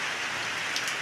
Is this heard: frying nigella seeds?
no